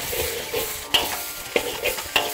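A flour and oil mixture with boiling water sizzles in a hot wok while a spatula scrapes and clacks against the metal a few times.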